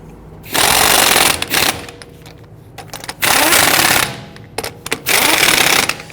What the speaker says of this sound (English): once we get them started, we'll go ahead and snug them down.